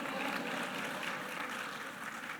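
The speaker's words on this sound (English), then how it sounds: "You can clap, go ahead, you can clap." An audience claps at a student awards ceremony. The applause is steady and distant, spread evenly through the hall and quite faint throughout.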